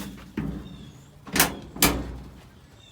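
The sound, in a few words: model car door closing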